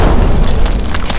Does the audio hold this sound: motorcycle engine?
no